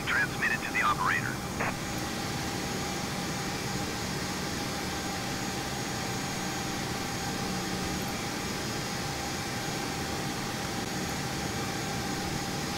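Aircraft pushback at San Francisco airport in Microsoft Flight Simulator 2020: a steady, even engine and air hum runs throughout, with a brief burst of chirping radio-like noise at the start and no spoken words.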